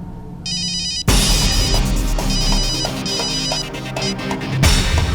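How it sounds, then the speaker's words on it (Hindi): An outgoing phone call rings through the earpiece, with repeated electronic ringback bursts in a steady pattern, loud and close, over a busy background. "लव भैया को लगाती हूँ।"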